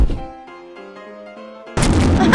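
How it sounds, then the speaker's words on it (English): Tiny grenade going off in Squid App Game: after a quiet stretch of sustained electronic tones, a sudden sharp burst explodes and stays loud and noisy to the end. "These are just like the tiniest grenades ever."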